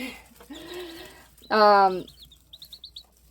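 Young chickens of a smaller breed, not bantams, call out in a couple of soft and then louder, harmonic vocalizations, followed by a quick series of faint high chirps.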